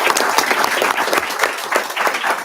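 Applause fills a town council meeting room, a crowd clapping steadily and fairly loudly with individual claps audible in the dense patter, no talk over it.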